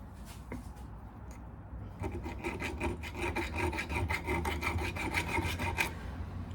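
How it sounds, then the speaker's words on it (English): A gold ring is filed by hand at a jeweller's bench, a steady run of quick rasping strokes that starts softly and builds into a regular, close scraping rhythm for several seconds. "you don't want to watch me keep filing this thing"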